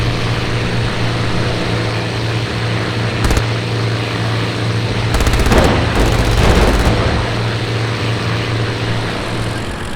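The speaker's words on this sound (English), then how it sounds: "160 rounds per second burst through the 109's airframe and cockpit" A Spitfire's machine guns rake a Bf 109's airframe and cockpit: short, loud bursts of rapid gunfire crackle over a steady propeller-engine drone, one brief burst early and two longer bursts near the middle.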